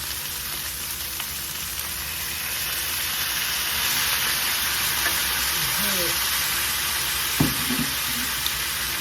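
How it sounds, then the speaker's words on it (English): Quail meat stir-frying in a wok after a splash of cooking wine, a close, continuous sizzle and hiss with a few light scrapes and knocks of stirring. "Now we just add a little bit of cooking wine to it."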